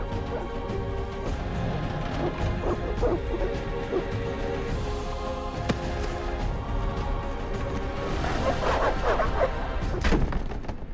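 Vicious dogs barking and attacking in The Witcher, mixed with crashes and thuds in a busy, loud game scene that builds toward the end.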